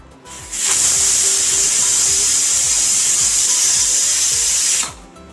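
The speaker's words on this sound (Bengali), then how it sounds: "আবারও আমি কুকারে একটা সিটি মেরে গ্যাসটা কিন্তু একদম বসিয়ে নিয়েছি।" A pressure cooker whistles on a gas stove while bottle gourd and chana dal cook inside, one loud, steady, close hissing blast lasting about four seconds before cutting off.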